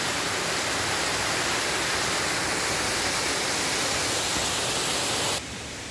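Water pouring down the Cascata delle Marmore falls in Italy, a dense, loud, unbroken rushing roar that drops off sharply in the final half second.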